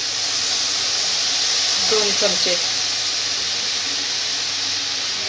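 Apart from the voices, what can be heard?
boiling milk poured into hot pan for basundi, sizzling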